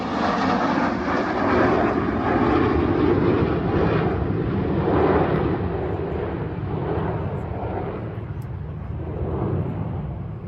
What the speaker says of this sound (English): There's a helicopter in here climbing toward the Naval Hospital.